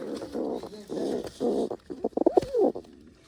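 Pigeon near its nest with eggs cooing close by, a few low rolling coos in sequence ending in a quicker burst of throaty notes.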